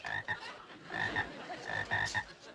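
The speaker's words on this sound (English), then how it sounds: "Get those frogs out of here." Several small frogs croaking close by in a burst of repeated, uneven croaks, bright and raspy, loud against a quiet background with no talk.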